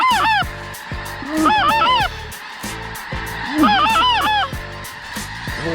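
A large flock of snow geese honks overhead in repeated bursts of overlapping nasal calls, loud and close, rising and falling in waves over a low steady background.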